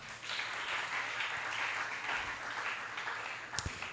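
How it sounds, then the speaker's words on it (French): Church congregation applauding, a steady broadband patter of many hands sustained throughout, moderately loud and fairly even, with a sharper clap burst near the end. "Acclamez pour vous-même."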